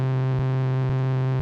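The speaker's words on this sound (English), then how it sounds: "Just this steady sort of nasally zap" Steady, buzzy, nasal synth bass tone from a pedal with a dying battery, a sustained distorted drone with faint periodic pulses, loud and unbroken throughout.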